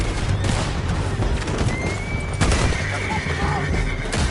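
Horses whinny and gallop amid bursts of gunfire during a chase in Red Dead Redemption 2, with a dense, loud battle mix and hoofbeats running underneath.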